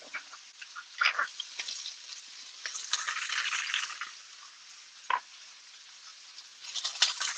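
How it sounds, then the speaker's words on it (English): Peppers and onions sizzle and crackle in a frying pan, a steady close hiss with scattered pops and a couple of louder stirring rattles, no talking. "now I'm gonna add my peppers and onions"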